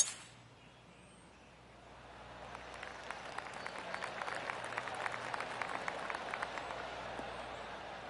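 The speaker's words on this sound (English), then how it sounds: "I can hear the golf claps around the course" Distant, light applause builds gradually into scattered polite clapping from a golf video game crowd around the course, faint and spread out like a small crowd far away.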